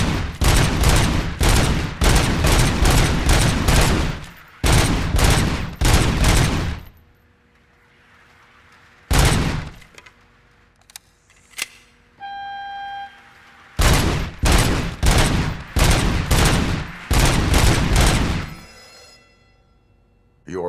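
Rapid bursts of loud gunfire in long strings from the video game Robocop: Rogue City, broken by a pause with a few electronic beeps and tones before firing resumes.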